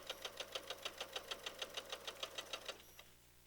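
A sewing machine stitches quilt blocks along a marked line in a fast, even run of about sixteen mechanical pulses that stop after roughly three seconds, close and clear over a low hum.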